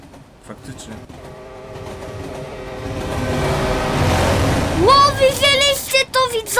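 A train in a horror-style video game rolls along tracks, first a distant rumble that swells into a loud close pass with rising screeching whistle tones near the end, with no talk.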